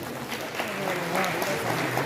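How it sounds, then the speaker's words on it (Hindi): Applause from an audience at a government ceremony where appointment letters are handed to newly hired teachers, a steady wash of clapping lasting the whole moment with a voice heard over it. "जोरदार ताली।"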